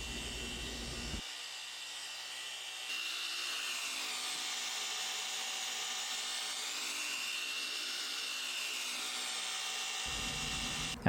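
A machine polisher fitted with an Optimum Hyper Wool pad works the paint on a Piper M600 aircraft, giving a steady whirring hum that shifts slightly in pitch as it runs, close and continuous.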